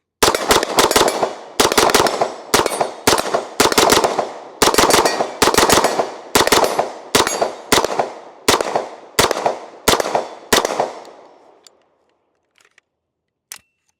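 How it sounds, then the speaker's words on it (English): A Sig MPX K submachine gun fired in a string of loud, close shots and short bursts, roughly a dozen evenly spaced reports, falling silent with a couple of faint clicks at the end. "Let's go ahead and take a few more shots with her."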